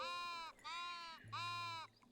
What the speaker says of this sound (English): A sheep! Come here, I want to pet you!